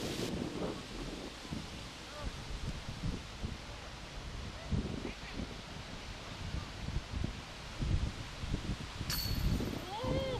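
Strong wind whips through trees on a Wyoming disc golf course, a continuous roaring gust with rustling leaves and buffeting on the microphone that swells and eases throughout.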